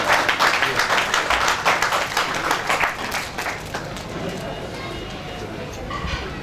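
At a restaurant book launch for an Urdu poetry collection, the audience claps for the author: a loud burst of many hands that tapers off after about three seconds into murmuring room noise.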